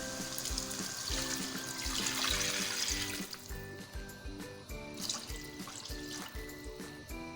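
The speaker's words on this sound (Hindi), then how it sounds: "अब हम इसमें डालेंगे पानी।" Water is poured into a cooking pot of tomato and spice masala for tikka biryani, a soft steady trickling and splashing with faint kitchen sounds behind, no talking.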